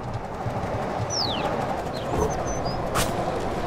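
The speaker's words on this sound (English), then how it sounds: "Oh, there's a bird." A bird in the video game Little Kitty, Big City gives a few short, thin calls over a steady ambient background, sparse and moderately close.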